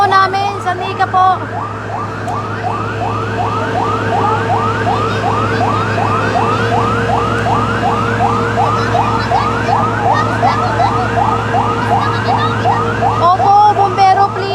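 Fire truck sirens wailing at a large fire in Villar City, Las Piñas, a loud continuous warbling yelp repeating rapidly over a steady engine drone, with voices faintly underneath.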